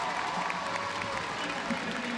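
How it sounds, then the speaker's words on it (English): A large crowd roars and applauds at the London Aquatic Centre during a swimming race, loud and continuous, with a commentator talking over it. "The crowd at the London Aquatic Center urging Petey home"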